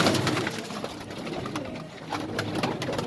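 A Madrasi pigeon coos softly and repeatedly, low murmuring calls close by over a noisy background.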